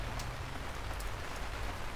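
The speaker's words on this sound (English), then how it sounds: "As expected, our journey begins in a downpour. When it rains here, it usually rains hard." Heavy tropical downpour in the Atlantic rainforest of São Paulo state, Brazil, a dense, steady hiss of rain pounding foliage and ground with no letup, close and enveloping.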